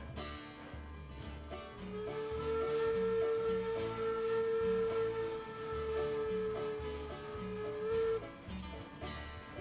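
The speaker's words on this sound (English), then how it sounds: "If I can get the whistle to go." A Class 70 steam locomotive whistle in the railway game Railroads Online sounds as one long, steady, loud blast lasting several seconds over the rumbling chuff of the engine.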